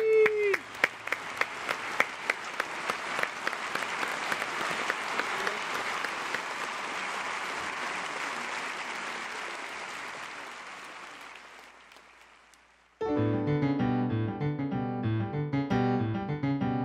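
Audience applause for a jazz pianist rises loudly and holds steady for about twelve seconds, thins out as it fades, then piano music begins.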